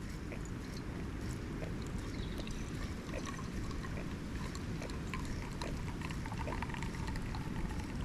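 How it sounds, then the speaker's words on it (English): Espresso dripping and trickling from a hand-pumped Wacaco Picopresso, a steady close wet hiss with faint liquid spatters throughout. "when I see those first drips, I'm going to wait 10 seconds and just let the coffee bed soak in a little bit and then start pumping away"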